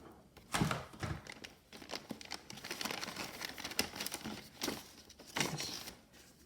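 Plastic bags and paper scraps rustle and crinkle close by during card crafting, with bursts of crumpling and tearing-like crackle that swell and fade over several seconds, with no talking.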